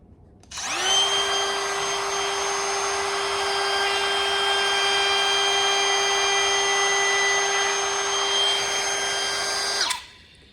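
A small trim router spins up with a sharp high whine, holds a steady loud tone while easing a wood edge for about nine seconds, then winds down.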